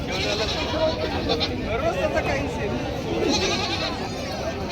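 A local desi goat bleats at a busy weekly goat market in Parbhani, its calls mixed into steady crowd chatter and people talking nearby.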